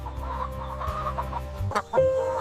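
Free-range hens on a backyard homestead clucking in short, soft bursts against a low steady background hum, with a brief louder squawk near the end.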